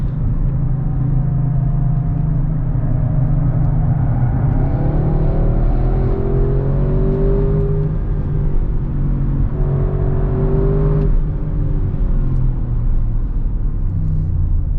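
A 2021 Audi RS6 Avant pulling hard on a track under launch control, its engine note rising and falling through harsh gearshifts, heard loud and steady from inside the cabin with a constant low rumble.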